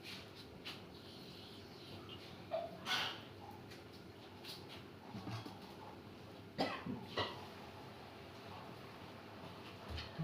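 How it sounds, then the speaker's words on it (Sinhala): A person with an illness coughs while cooking a banana-stem curry on a stove, two or three short, fairly close coughs spaced apart over a quiet kitchen background. "කැස්ස එක තමයි ඔක්කොම නේද?"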